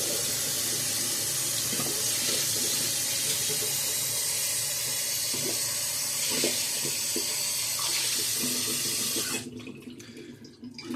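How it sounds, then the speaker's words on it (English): Steady splashing of tap water over a shaving bowl and brush as they are rinsed, loud and continuous with small clinks, until the flow cuts off near the end. "let's go ahead and clean out my bowl and brush"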